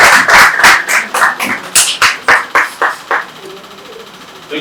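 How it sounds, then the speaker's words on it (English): An audience at a corporate International Women's Day road-walk event claps for the speakers in a run of sharp, evenly spaced claps that fade out after a few seconds, leaving a quieter room. "Please give a round of applause for Mr."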